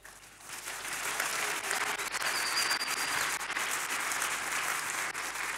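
A church congregation breaks into sustained applause and cheering in praise of the Lord, a dense, loud wash of clapping that swells quickly and holds steady throughout.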